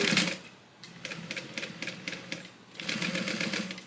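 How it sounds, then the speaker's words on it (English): A sewing machine stitches along the curved edge of a fabric bag: a short burst, then a quieter run of rhythmic stitching, and a louder steady burst to finish. "Sew it down."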